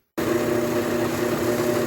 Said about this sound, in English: Now we can put our drill in, 17/64, and go straight through.